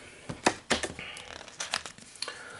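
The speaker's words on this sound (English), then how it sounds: "Let's give these a shuffle." Board game cards are shuffled up close, giving a series of quick riffling snaps and soft papery crackles in short uneven bursts, fairly quiet with no talking.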